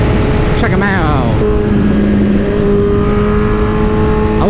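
Motorcycle engine revving hard while the rider pulls a wheelie, loud and close, with rising and falling pitch sweeps as the throttle opens over a dense rumble.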